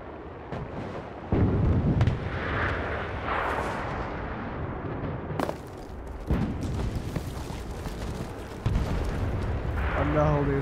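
Artillery booms and gunfire in the World War II shooter game Enlisted, with heavy blasts and scattered shots rolling at varying distances under excited voices for about ten seconds.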